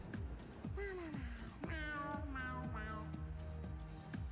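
A cat meows several times inside the tactics video game Infinity: HexaDome Tactics, the calls drawn-out and tonal, layered over steady game music and ambience.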